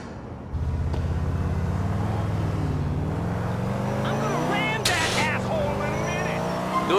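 A car driven through city streets in GTA IV, its steady engine drone rising and falling as it shifts, with a brief burst near the end, running under in-game conversation.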